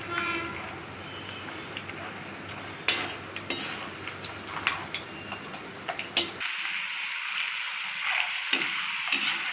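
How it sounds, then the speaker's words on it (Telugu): Peanuts frying in hot oil in a pan while mango rice (pulihora) is made: a steady, close sizzling hiss for about six seconds, then a quieter stretch of sizzle with light stirring and clatter. "ముందు వేరుశనగపప్పు వేయించుకుందాం"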